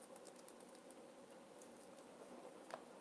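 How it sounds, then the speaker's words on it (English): Rain patters steadily and faintly outdoors, a dense soft crackle of droplets with a few sharper taps, continuous and without voices. "It is raining again."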